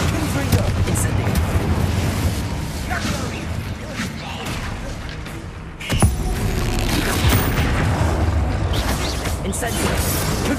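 Fiery spell blasts from Incendio and Confringo cast in Hogwarts Legacy, booming and crackling in a dense continuous barrage with a sharp burst midway, while a voice shouts spell names over the din.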